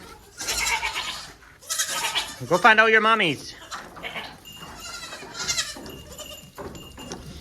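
Baby goats on a farm give one clear, wavering bleat midway, set among a person's talking and a few quieter animal sounds, fairly close.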